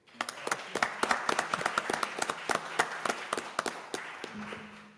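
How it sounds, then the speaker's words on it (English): Scattered applause for a guest from a small audience: distinct individual claps, close and crisp, building into a brief irregular round before tapering off near the end. "How about a round of applause for Mr. Harold Sylvester?"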